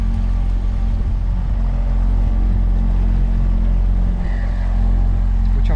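A Shetland 535 motorboat cruising on the water near Brighton Ferry, its engine producing a loud, steady, low droning hum that continues without a break.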